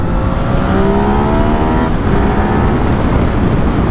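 A 2019 Yamaha XSR900 motorcycle pulls hard in second gear, its engine note climbing loudly and close, then easing into a steady rush of engine and wind noise.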